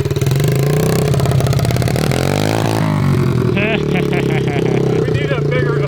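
A 1970s Scat Cat shifter mini bike engine runs loud and close in first gear, revving up with a rising, rattling buzz that holds steady and pulses.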